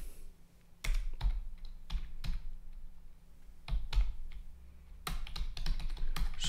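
JavaScript code typed on a computer keyboard, heard as close, irregular bursts of key clicks with short pauses between the groups, and no one speaking.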